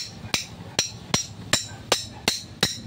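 A hammer pounds an electric fan part into place in seven sharp, evenly spaced metallic strikes, each close and loud, with no talking.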